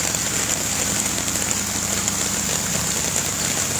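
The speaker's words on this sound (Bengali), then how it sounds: "প্রচুর পরিমাণে বৃষ্টি।" Heavy rain pours down in a steady, dense hiss on flooded streets, with a low rumbling engine-like drone underneath throughout and no voices.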